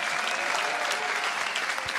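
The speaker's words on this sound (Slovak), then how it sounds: "Let's give him a great applause" Audience at a revival meeting in Slovakia applauding steadily, a dense, even wash of clapping hands that holds at full strength throughout.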